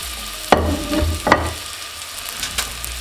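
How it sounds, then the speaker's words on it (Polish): Garlic, onion, chili and ginger frying in a pot, a close sizzle with a couple of sharp clatters as the ingredients are tipped in and stirred. "i teraz wrzucam czosnek, cebulę oraz chili. A, jeszcze imbir do tego."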